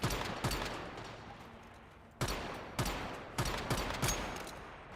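Gunfire in the game Once Human comes in loud bursts of sharp shots, with a few quick rounds at the start, a pause, then more clustered volleys fired close by.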